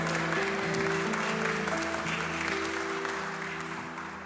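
A church congregation applauds during a worship service, a steady dense wash of clapping from many hands with sustained tones from a keyboard or music underneath, fading slightly toward the end.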